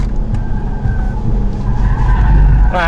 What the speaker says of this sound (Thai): มีการ สไลด์ ครับท้ายเห็นได้ชัดครับ